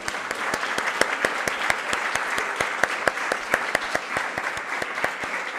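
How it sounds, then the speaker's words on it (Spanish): Conference audience at a closing session of a university research day applauding, a sustained crowd clapping with a few sharp, rhythmic louder claps standing out at a steady beat. "Un aplauso nuevamente para él"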